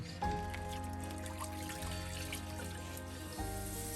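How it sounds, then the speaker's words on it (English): Hot tap water runs into and over a glass jar being washed, a continuous splashing flow with ringing tonal resonance and a few brief breaks and restarts. "I like to wash the jar with hot water and repeat the process 2 to 3 times"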